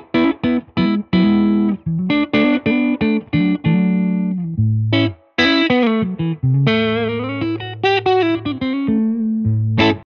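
A Gretsch G6228 Player Edition Jet electric guitar runs through a Retroactive Diving Bell pedal into a Benson Monarch Reverb amp, playing a loud, rhythmic run of plucked notes and chords with a shimmering, modulated tone and no talking.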